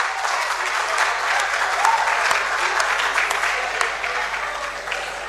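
Steady, full applause from an audience at an inter-school debate on ECOWAS regional integration, greeting a contestant and continuing evenly throughout.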